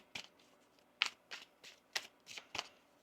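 Tarot cards being shuffled close by in quiet, crisp bursts, about half a dozen sharp riffles spaced irregularly.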